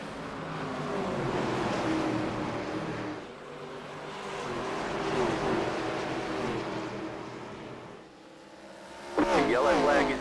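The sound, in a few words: race car engines roaring at start of race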